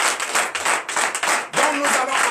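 Congregation clapping in acclamation at a Benin morning prayer service, a dense, steady burst of many hands close by, continuous for a couple of seconds.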